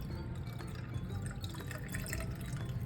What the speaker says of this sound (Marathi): हे सगळं पाणी आहे ना हे पण आपल्याला याच्यामध्ये ओतायचं आहे